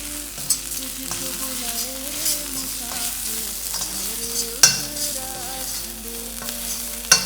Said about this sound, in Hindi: यहाँ पे मसाले अच्छे से भुन गए हैं।